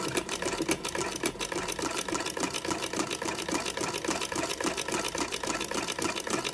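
A 221k hand-crank sewing machine stitches a buttonhole with a fast, even clatter that repeats without a break for the whole stretch, close and fairly loud.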